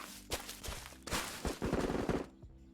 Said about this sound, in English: I think we finally heard a gunshot at least